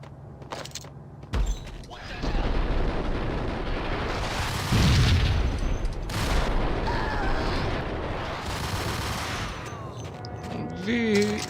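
Explosions and gunfire in the 2001 video game Max Payne: loud booming blasts with a sustained rumbling roar and bursts of shots, close and heavy.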